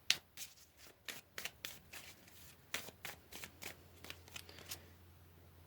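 Tarot cards shuffled and pulled from the deck, a run of soft, quick riffling bursts and flicks of varying loudness, close and alone with no talking.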